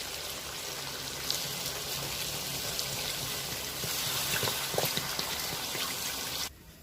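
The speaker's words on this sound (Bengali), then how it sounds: "এবার এর মধ্যে আমি জল দিয়ে দেবো" Water is poured into a pot of browned, slow-fried mutton for biryani, giving a steady close-up wash of sizzling and splashing liquid that keeps on without a break and then cuts off abruptly near the end.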